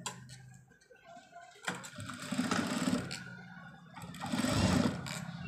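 A sewing machine stitches a patch onto a garment, running in bursts of rapid mechanical ticking with pauses between, close by and moderately loud.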